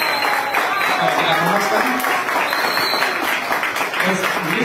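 Applause for Miss Simpatía at a school anniversary celebration, a steady crowd clapping that fills the whole stretch, with a voice speaking over it briefly.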